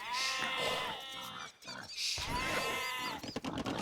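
Sheep bleat in Age of Empires II, two wavering, nasal bleats close up, one after another with a short pause between, alone without talk.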